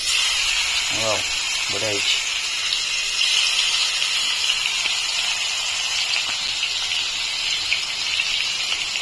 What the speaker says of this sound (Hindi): चलो माछटा पकईदे। तेल तो गरम हो गला